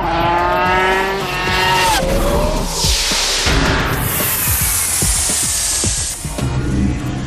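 A loud, screaming 3-litre V10 racing engine, running up to 18,000 rpm, revs hard and rises in pitch through the gears, with tyres squealing and the car sweeping past, no talk.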